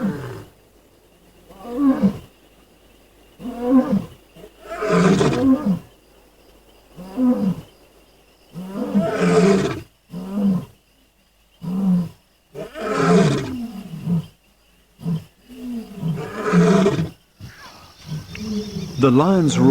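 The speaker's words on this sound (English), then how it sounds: "one of the classic sounds of the African night is the sound of lions roaring" Lions roar at night on the African savanna in a long series of deep, grunting bursts that build and recur, loud and close, with faint crickets in the gaps between calls.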